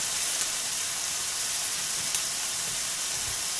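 A steady hiss of steak searing in butter in a HexClad pan with rosemary and thyme, even and constant throughout, fairly quiet, with no talking.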